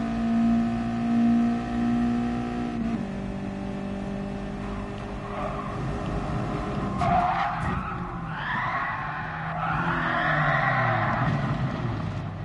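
Race car in Gran Turismo Sport on PS5, engine droning steadily before shifting, then tires squealing and skidding loudly in several wavering bursts as it slides off the road.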